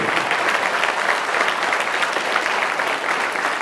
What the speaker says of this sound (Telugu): సాయి మందిర్ నిర్వాహకులకి క్లాప్స్ కొట్టండి